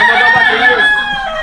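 A rooster crows loudly and close by, one sustained, raspy cock-a-doodle-doo that fills the whole moment, with more gamecocks around.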